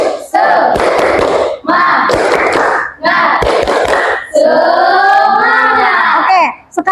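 A school class performs a tepuk semangat clapping chant, with children clapping and chanting together in three quick loud bursts, then a longer sustained group shout; the sound is close and crowded.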